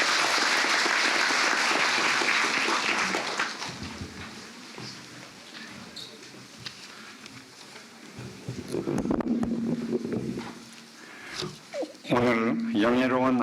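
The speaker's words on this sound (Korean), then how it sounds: "여러분, 이사장님께 큰 박수를 보내주시기 바랍니다." Applause from a graduation ceremony audience at Inha University fills the opening few seconds, dense and steady, then fades as a speaker begins talking over a quieter hall.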